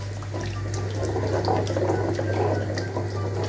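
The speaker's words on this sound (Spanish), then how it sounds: "Nosotros vamos a poner un poquito de agua hervida" Boiled water is poured into a pan while making mustard chicken, giving a steady, continuous splashing rush that stays even and close throughout, with a low hum beneath and no talking.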